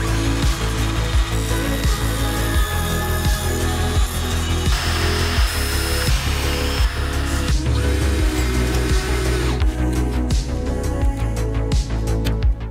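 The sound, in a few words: power drill drilling screw holes through stacked wood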